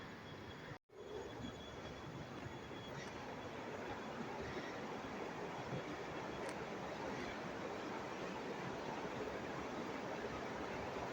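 A stream runs beside a waterfall in Chiang Mai, giving a faint, steady broadband rush of flowing water that continues evenly throughout after a brief dropout near the start.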